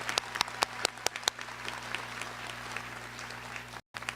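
Applause from a graduation audience at an adult education ceremony, starting with a few sharp, distinct claps and settling into a steady, moderately distant patter that cuts out abruptly near the end.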